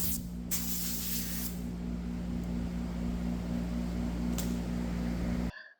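An air compressor blowing dust off sanded paint gives a steady, close hiss of air with a low mechanical hum beneath, broken by a couple of brief sharper bursts near the start and middle before cutting off abruptly.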